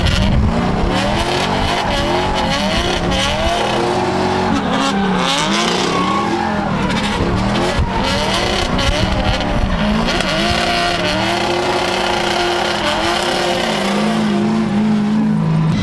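A Cummins diesel-swapped car running laps on track, its engine droning and shifting pitch continuously while tires squeal and skid in long stretches, loud and close throughout with no talking.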